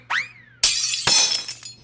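Glass dishes break in a home kitchen: a rising clatter, then a loud crash and a second shattering impact, each followed by tinkling shards, with no talk over it.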